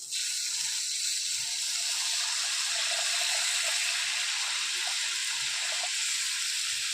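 Water pours steadily into a pan of egg curry with chutney, salt, turmeric and spice, a constant close rushing wash with faint bubbling and no voices.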